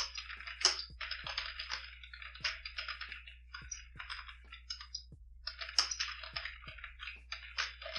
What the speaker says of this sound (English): I will type in this command to create a new Elixir